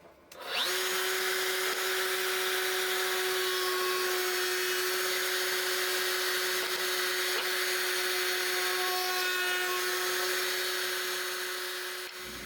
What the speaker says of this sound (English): I got a chamfer bit here that I'm going to use to get the chamfer going